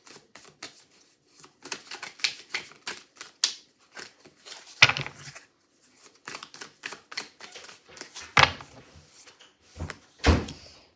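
Tarot cards handled and pulled from a deck during a reading, heard as close, irregular dry slaps and flicks of card stock with a few louder snaps and bumps, no talking.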